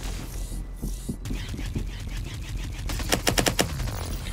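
Laser guns fire in the VR shooter Solaris Offworld Combat: scattered shots under loud game ambience build into a fast, loud volley of close, sharp blasts near the end.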